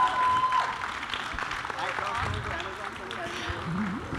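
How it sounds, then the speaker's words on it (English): An audience applauds at a launch event for a streaming web series. The clapping is moderate and blends with crowd noise, a brief tone and talking voices. "Let's hear a huge round of applause for them."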